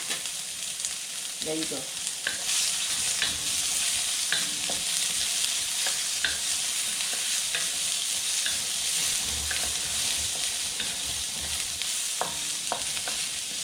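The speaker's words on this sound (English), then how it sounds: "when it's heat up, so we're gonna put our garlic." Garlic frying in hot oil in a pan while making Pancit, a continuous loud sizzle and crackle throughout with occasional stirring scrapes; a voice briefly speaks near the start.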